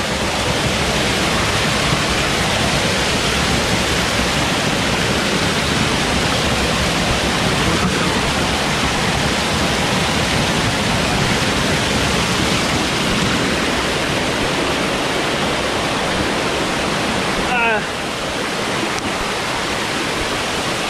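Constant rushing of a flowing stream near Callao Cave in Peñablanca, Cagayan, loud and close, a steady broadband wash that continues unbroken throughout.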